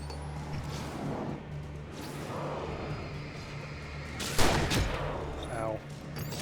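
Gunfire erupts in the Alan Wake Remastered PC game during a dark-forest ambush, a steady dense rattle of shots with a louder burst near the end, under a game soundscape and a brief voice.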